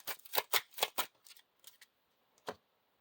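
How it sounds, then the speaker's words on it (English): Close, crisp riffling of playing cards in quick bursts, a few rapid snaps followed by softer taps and one final flick, no talking. "I have to shuffle this."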